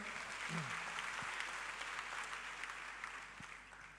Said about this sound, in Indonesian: So kasih tepuk tangan dulu buat PD Immanuel.